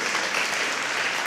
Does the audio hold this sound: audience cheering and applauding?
yes